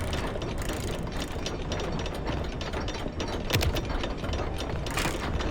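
An elevator ride in the video game Five Nights at Freddy's: Secret of the Mimic, a steady grinding mechanical rattle of ratcheting gears and clanking machinery that runs continuously and fairly loud throughout, with no voices.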